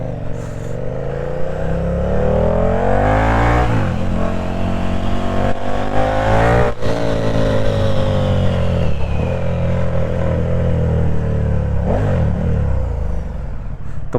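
A KTM 1290 motorcycle engine revs loud and close, its throttle rising and easing in long continuous pulls with a few sharp blips, and no voices over it.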